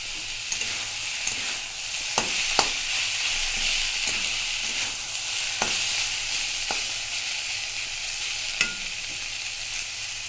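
Snake gourd cooking in a pan over raised heat, a steady loud sizzle and hiss running throughout, with occasional sharp spoon taps and scrapes from stirring, close up.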